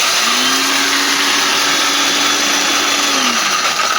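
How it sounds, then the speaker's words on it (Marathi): A kitchen mixer grinder pulverises roasted dry fruits and makhana for laddu: a loud, steady, continuous whirring grind that runs unbroken for about four seconds with no voices. "आता सगळे ड्रायफ्रुट्स आपण मिक्सरमध्ये वाटून थोडे बारीक करत आहोत"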